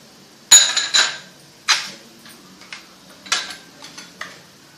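Cooked carrot halwa spooned from a pan into a bowl: a few sharp metal scrapes and clinks of a spoon against the pan, spaced irregularly and close by, with quiet gaps between strokes.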